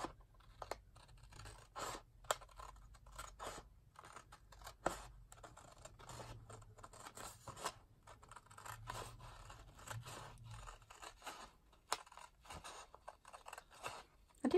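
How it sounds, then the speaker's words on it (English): Scissors snipping through card along a score line, faint close-up crisp cuts repeating in an uneven rhythm with soft scraping between them and no voices. "I found if I turned it over and cut on the left-hand side of that score line"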